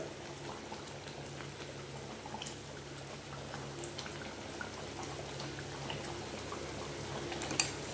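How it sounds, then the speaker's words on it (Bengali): Kewra water poured into a pot of simmering chicken rezala, a soft continuous liquid trickle and gentle bubbling that stays low and steady, close by, with no talking. "এইবারে আমি এর মধ্যে দিয়ে দেব কেওড়ার জল"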